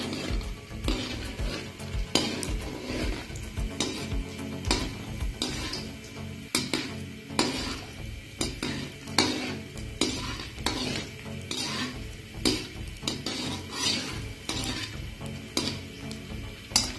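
Moong dal roasts over very low heat in a pan while a spoon stirs and scrapes it steadily, giving continuous soft rustling, clinking and scraping close by, with no voices.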